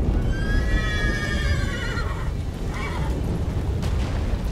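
A horse whinnies in The Witcher 3: Wild Hunt, a long descending neigh over a constant low rumble, followed by a shorter snort-like call.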